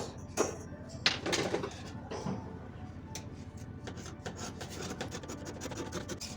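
A paper pattern being cut out up close, faint crisp snipping and rustling of paper in irregular bursts, quiet throughout and with no talking.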